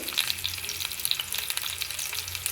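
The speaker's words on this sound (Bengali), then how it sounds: "এটা অল্প তেলেই হবে, আঁচটা কমিয়ে রাখবো।" Stuffed beetroot and tomato fry gently in a little oil over low heat, giving a steady, close crackling sizzle with fine spitting pops throughout and no voices.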